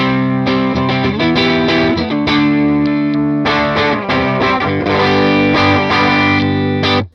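An electric guitar played through a Tone X amp preset with a polished, lightly driven tone, strummed chords and single notes ringing out loudly and continuously with no talking.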